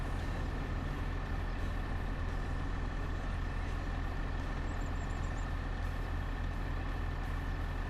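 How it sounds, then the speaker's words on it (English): A school bus drives past on a road in the video game Farming Simulator 25, a steady low engine rumble under constant traffic noise, with no talking. "There goes the school bus."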